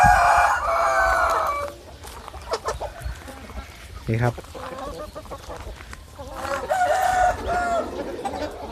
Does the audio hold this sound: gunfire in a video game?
no